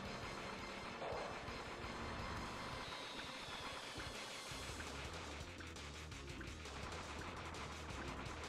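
Rapid gunfire from the Gungage video game as shots hit flowers, a dense continuous burst of shooting with mechanical rumble beneath, steady and loud throughout with no talking.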